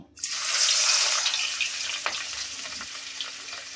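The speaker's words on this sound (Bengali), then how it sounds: "প্রথমে মাথাটা ভেজে নিব তো ভেজে নিতেছি" Rohu fish head frying in hot oil in a pan, a loud, steady sizzle that rises fast at the start and crackles on, with a sharp pop partway through.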